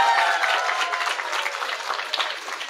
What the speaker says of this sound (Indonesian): tepuk tangan dulu, Kak.